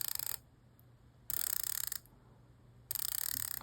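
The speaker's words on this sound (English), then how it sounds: "Also comes with a 120 click unidirectional bezel." A 120-click unidirectional dive watch bezel on an Addies Dive AD2044 turns in three bursts of rapid, crisp ratcheting clicks, close and clear, with quiet pauses between.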